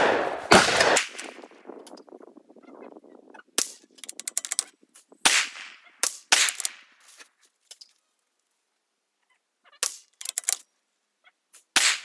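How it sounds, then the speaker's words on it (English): A Savage MKII GXP rifle fired downrange while sighting in: sharp, loud cracks spaced out over several seconds, some coming in quick pairs, with quieter mechanical clicks and long silent gaps between them. "let me pop it 10 rounds down range"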